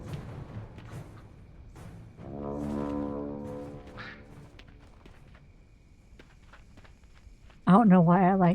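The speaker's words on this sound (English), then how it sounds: "I like blowing the horn and scaring off the ducks." A deep, sustained horn is blown in World of Warcraft. It sounds once as a long tone mid-clip, then a sharp, loud blast near the end, with someone talking in between.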